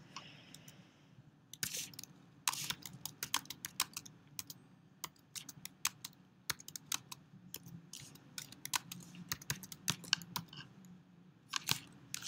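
Someone types on a computer keyboard to enter text in a layout program, with quick irregular key clicks in bursts and short pauses, close and fairly soft over a low room hum.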